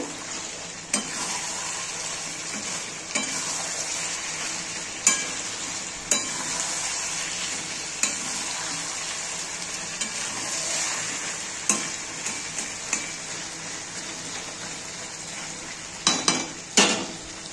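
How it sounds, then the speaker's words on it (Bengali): Chicken kosha frying in a pan, a steady loud sizzle with periodic scraping and clinking as it is stirred with a utensil, Bengali-style home cooking. "আরো অনেক কষানো হবে, আবার একটু নেড়ে দেব।"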